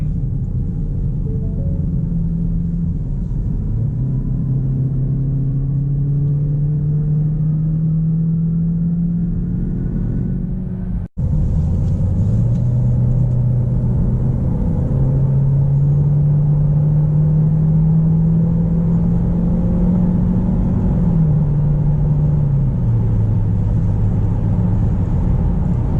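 A 2018 Ford Escape accelerates to highway speed from inside the cabin, its engine drone climbing steadily in pitch, dropping at a gear change and climbing again, over a constant road rumble with no talking.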